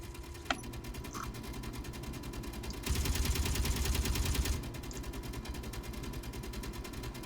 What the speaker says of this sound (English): Hearing some little pot shots.